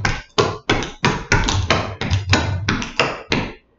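Clogging shoes strike a hard floor in a quick series of about a dozen sharp taps, close and loud, in the rhythmic drags, brushes and drop steps of a clog dance routine.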